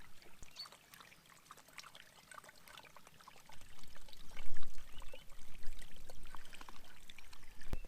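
Water trickles and pours from a stream while being filtered during a wild camp in the Northumberland hills, growing louder and more splashy in the second half, close by with no voices.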